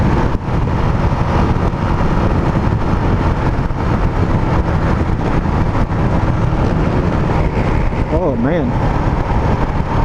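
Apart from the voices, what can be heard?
motorcycle engine revving and popping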